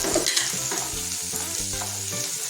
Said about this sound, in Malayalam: ഇനി ഇത് നന്നായിട്ട് വഴറ്റിയെടുക്കുക നമ്മളിത്